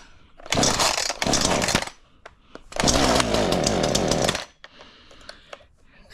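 A chainsaw engine cold-starting on choke fires loudly in two rough bursts of roughly one and three seconds, each cutting out abruptly, followed by quieter handling noises.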